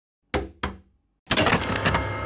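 Two sharp, separate knocks land on a door, followed a moment later by a louder burst of rattling and thudding.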